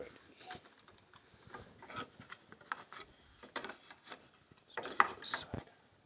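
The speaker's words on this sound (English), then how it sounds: "so basically what you would use a rasp for is to shape wood, a lot of edge work, or just getting wood down to what you want" A woodworking rasp is drawn across the edge of a wooden board to shape it, making soft, uneven scraping strokes in irregular bursts. The strokes are faint and close.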